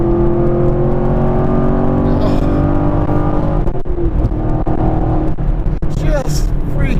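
A 2017 Chevrolet Camaro SS 1LE V8 engine roars loud and close as it pulls hard through the revs, with a sustained droning growl that shifts pitch, and a voice briefly exclaims over it.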